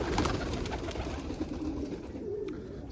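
Fantail and roller pigeons out in the snow coo softly and repeatedly at close range, over a steady hushed background.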